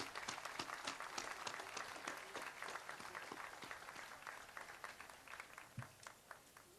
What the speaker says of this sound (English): I would like everybody to give a round of applause to the people of Pepperfest